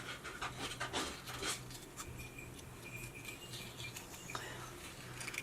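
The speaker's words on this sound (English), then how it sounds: "they're scratching to get in" Dogs scratch at a closed door from outside, trying to get in, with irregular scrapes and soft patters over panting, a steady low hum and quiet room ambience.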